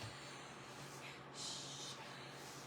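A man snoring faintly in a quiet room, one soft drawn-out snorting breath rising briefly out of the low background hum, with no talking.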